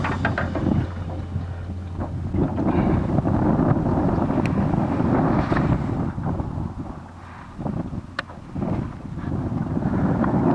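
Strong wind gusts buffet a microphone beside the Dnieper river during a fishing trip, a loud steady roar with low rumbling and a few faint clicks, no voices.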